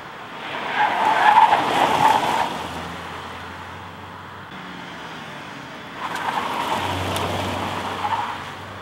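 Tires squealing on a 2012 Hyundai Sonata Hybrid pushed hard through bends, two drawn-out screeches separated by a quieter stretch, with low engine and road noise underneath.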